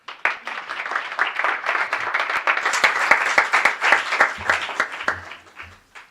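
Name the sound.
applause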